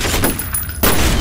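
Shotgun gunfire in the video game F.E.A.R., a dense burst of loud, close blasts with a sharp break partway through before the heavy firing resumes.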